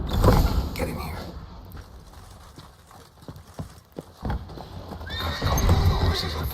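Horses whinny loudly amid clattering hooves and creaking, set against a dense, rumbling soundtrack from The Witcher 3: Wild Hunt.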